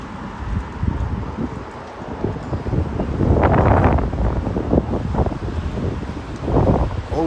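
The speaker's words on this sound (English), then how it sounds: "Always at a windy one. I keep having to hold on to my hat." Strong outdoor wind buffets the microphone in steady rumbling gusts, swelling loudest around the middle, with faint rustling in the background.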